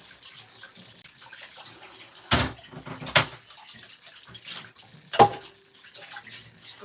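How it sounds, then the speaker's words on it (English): An item being rinsed under running kitchen tap water while fried rice is cooked, a soft continuous trickle with a few louder splashes and knocks, fairly quiet and close, no voices. "Okay, a quick wash"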